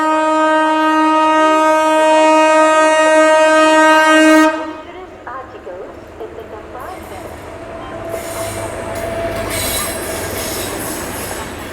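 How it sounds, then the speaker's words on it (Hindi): The Swarna Jayanti Rajdhani Express, train 12958 from New Delhi to Sabarmati, blasts a loud, sustained horn, then passes close by with a rumbling, clattering roll of coaches. "तो भाई ये सामने आ गई ट्रेन नंबर 12958 स्वर्ण जयंती राजधानी एक्सप्रेस"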